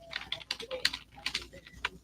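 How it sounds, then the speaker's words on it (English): Irregular bursts of keyboard typing, quick soft clacks in uneven clusters, fairly faint and close, with no talking over them. "I was typing welcome to my life real quick."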